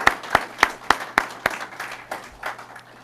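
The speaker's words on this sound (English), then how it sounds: "another round of applause" Sparse, separate claps ring out at a Memorial Day ceremony, about six sharp evenly spaced hits followed by softer scattered ones fading out, heard alone without talk.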